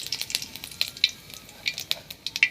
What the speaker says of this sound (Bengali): এতে একটু জিরে ফোড়ন দিয়ে দেব।